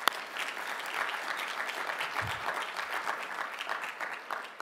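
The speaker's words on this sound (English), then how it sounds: "So let's give them a round of applause, please." An audience claps at a climate conference opening ceremony, a dense, sustained round of applause from a hall crowd that holds steady for several seconds.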